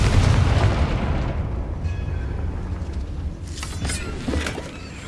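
A Confringo fire spell bursts in Hogwarts Legacy, a loud booming blast at the start that rumbles down, followed by lighter crackling bursts near the end.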